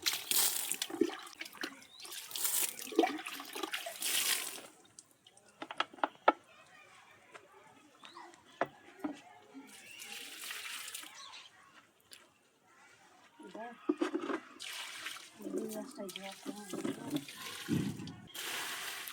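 Water splashes onto coriander and other plants in a vegetable garden in several separate gushing bursts, with quieter gaps between them where faint birdsong carries in the background.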